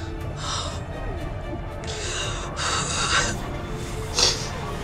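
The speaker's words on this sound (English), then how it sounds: "Breathing is struggling." Labored, struggling gasps and snorting breaths from a TV drama scene, several harsh rasping bursts over a low background hum.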